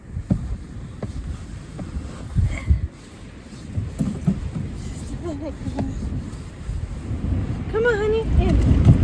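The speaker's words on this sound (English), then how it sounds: "It is gusting like 50 miles an hour wind" Strong gusting wind of about 50 mph in Southern Utah surges and buffets the microphone in uneven, rising pulses, with a brief squeaky sound and muffled voices.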